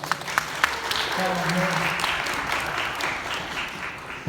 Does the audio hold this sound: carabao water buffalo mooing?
no